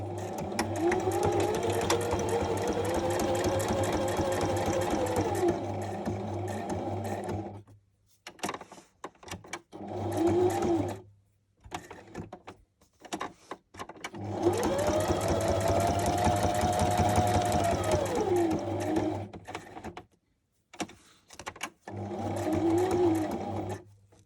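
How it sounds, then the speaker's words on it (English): A sewing machine runs a straight stitch through paper recipe cards. Its steady, close mechanical whirr comes in two long runs, with shorter bursts and brief stops in between as the paper is repositioned, and there is no speech. "let's go to the sewing machine now. Okay, I'm going to do just the straight stitch, like so."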